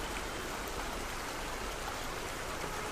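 Steady waterfall water pours and rushes in a constant broadband wash, close and even throughout with no voices.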